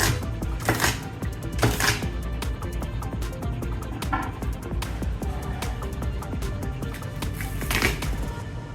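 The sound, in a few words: chopping onions with a knife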